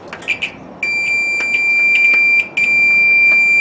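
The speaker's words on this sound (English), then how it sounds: "In this case, it beeps, so it's good" Multimeter continuity test beep on a GE electric dryer thermostat: a loud, steady high-pitched tone sounds after a few clicks, briefly cuts out, then resumes.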